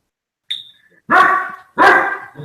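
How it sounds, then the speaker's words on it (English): A dog barks at cows that have turned up in a backyard: a short high yelp, then two loud, close, harsh barks in quick succession. "it's the cows that appear suddenly in the backyard and the dog goes crazy"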